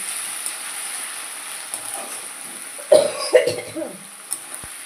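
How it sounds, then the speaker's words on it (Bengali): Someone coughs in a short cluster of two or three loud, close bursts, followed by a fainter catch, against a quiet indoor background. "ঠান্ডা গরম থেকে থেকে কাশি হয়ে যাচ্ছে"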